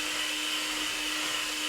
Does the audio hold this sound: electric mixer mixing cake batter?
yes